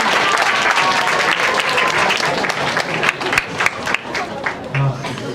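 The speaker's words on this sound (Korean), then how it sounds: "박수로 목사님 모시겠습니다" Applause from students at a school chapel service welcoming the pastor, a dense sustained clapping that thins into scattered individual claps toward the end, with a brief voice underneath.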